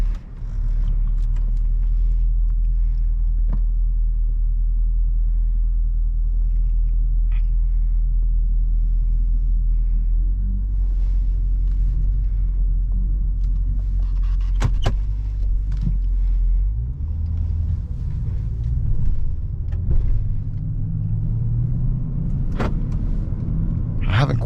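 A 2012 Dodge Charger SRT-8 cruises on the Autobahn, its engine a steady low rumble that builds and shifts near the end, with occasional clicks and faint cabin noises alongside.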